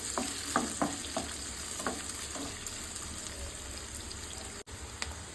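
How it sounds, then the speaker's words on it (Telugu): Chopped onion frying in oil with already-fried tempering seeds, cooked for a vegetable karam fry, gives a steady close sizzle broken by several clear scraping stirs and light clinks, alone without talk. "ఇది మంచిగా గోల్డెన్ కలర్ వచ్చే వరకు ఫ్రై చేసుకోవాలి."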